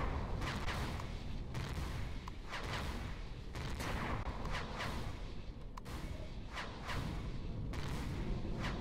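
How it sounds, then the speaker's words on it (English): Plasma cannons, missile launchers and four artillery guns in Empyrion Galactic Survival fire a dense broadside of repeated booming blasts and whooshes, rolling continuously and loudly without pause. "Now the plasmas have opened up along with the missile launchers and the four arties."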